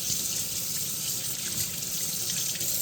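Tap water runs steadily into a sink, rinsing kitchen items, a close continuous splashing hiss with no voices.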